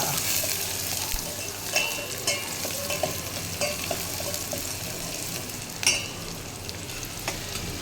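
Cumin seeds sizzling and frying in hot oil in a home kitchen, a steady close crackling hiss with occasional stirring clinks and pops throughout.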